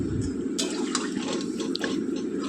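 Water is poured into a pan of paneer and potato curry, a close, steady splashing and gurgling pour with a few brighter splashes, continuous for a couple of seconds without any speech.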